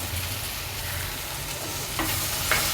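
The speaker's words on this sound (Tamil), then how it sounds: "அடுப்பை ஆஃப் பண்ணிவிட்டு இந்த தேங்காவை சேர்த்துக்க போகிறோம்." Grated coconut being stirred into a cooked turkey berry mixture in a pan with the stove switched off, giving a steady soft scraping and faint sizzle, with a couple of sharper spoon knocks near the end.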